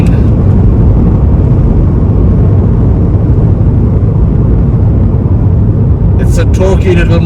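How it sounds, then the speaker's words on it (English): Chrysler Crossfire engine picking up speed smoothly, a loud steady low rumble of engine and road noise inside the car, with a brief higher rattle near the end. "It's a torquey little motor. It just picks up very smoothly."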